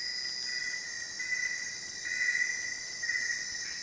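An insect in the Amazon jungle keeps up a steady high chirring drone, with a second buzzing layer that swells in short pulses, faint and constant with no voices.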